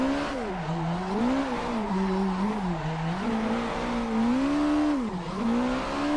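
A street drift car lapping a track in Assetto Corsa, its engine droning steadily with pitch rising and dipping through gear changes and throttle lifts, close and continuous, no talk.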